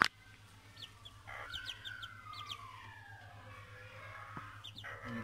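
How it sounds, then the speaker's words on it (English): Hens with a mother hen on a smallholding cluck and call in soft bursts, one drawn-out cackle standing out over a low steady hum, with faint chirps around. "Oh, this is a mom with the hens."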